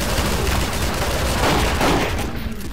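Dense, continuous gunfire rattles loud and close in Gmod Zombie Survival, rapid overlapping shots blending into a harsh, unbroken burst that tapers slightly at the end.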